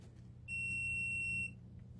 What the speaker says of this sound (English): My iron usually beats me to it. It's usually beeping before I get done.